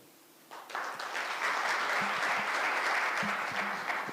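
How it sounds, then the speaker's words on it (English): An audience claps after a presentation at the launch of a justice sector annual report in Kenya, starting from near silence and swelling within a second into sustained, moderately loud applause, with faint scattered voices underneath. "A louder round of applause, please"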